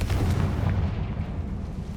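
A Confringo fire spell explodes in the video game Hogwarts Legacy, a deep booming blast that rolls out and fades over about two seconds.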